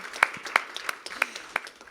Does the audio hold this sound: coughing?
no